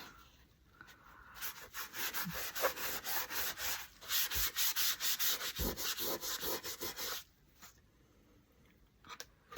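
A hand or rag rubs Mod Podge over a wooden paper towel holder made from wood scraps, making close, rhythmic scrubbing strokes that speed into quick repeated passes in the middle, then fade to quiet handling, with no talk.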